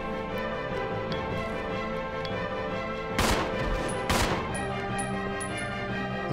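Two loud pistol shots in the video game Resident Evil Zero, about a second apart, over a steady game soundtrack with faint ticks.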